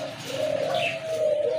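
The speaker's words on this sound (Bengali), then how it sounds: "আরেক জোড়া লাহোরি কবুতর মাশাআল্লাহ খুবই সুন্দর।" Lahori pigeons cooing close by, a soft, low, rolling coo sustained over a second or so with a faint higher chirp partway through.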